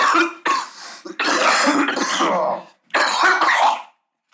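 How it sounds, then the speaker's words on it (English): A fit of harsh, close coughing in several bursts, one long rasping spell in the middle, separated by brief silences. "Into this coughing segment."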